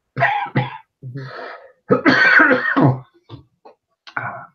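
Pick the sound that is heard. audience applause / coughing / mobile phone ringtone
coughing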